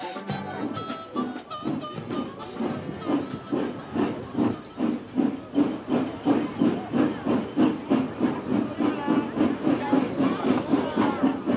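Steam locomotive on a mainline excursion standing at a station before a scheduled departure, with a steady hiss and rhythmic chuffing pulses that repeat evenly throughout, fairly close, alongside faint voices.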